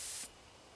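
A sprayer hisses in the video game Death Mark, a short, steady burst of spray noise that cuts off abruptly, leaving faint static behind.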